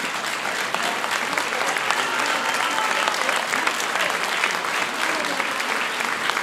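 Sustained audience applause fills the hall after a klapa vocal group's performance at a klapa cover-song evening, dense steady clapping from a crowd without a break.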